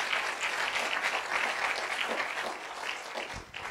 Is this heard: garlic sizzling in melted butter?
no